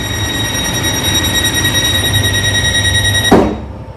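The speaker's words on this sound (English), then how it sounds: "At least I know how door closing sounds like in the Netherlands." A door in the Netherlands closes with a single sharp thud at the end, following a steady electronic tone and background hum.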